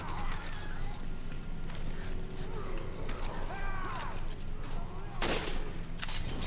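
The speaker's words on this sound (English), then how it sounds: "there's a machine gun out there." Machine gun fire in a video game comes as sharp, noisy bursts in the last seconds, after a stretch of mechanical clatter and game background sounds.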